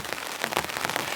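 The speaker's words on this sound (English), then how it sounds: "And with that sound of the rain, it's just very, very peaceful." Heavy rain drumming on a camping tent, a dense patter of scattered drops with sharper taps standing out, steady and close throughout with no talking.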